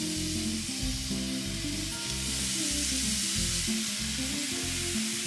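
Loud, continuous sizzling of ground chuck and Impossible Burger patties frying on a hot Blackstone griddle, a steady crackling hiss with a low humming tone underneath.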